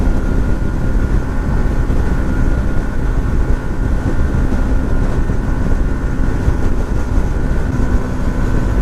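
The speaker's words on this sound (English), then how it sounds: "the engine is screaming" A 2018 Yamaha MT 125 motorcycle engine screams at high revs on a highway, heard as a steady, loud, dense roar mixed with rushing wind, continuous and unbroken, with no talking.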